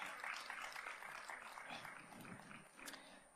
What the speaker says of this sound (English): Please give her a round of applause as she takes her seat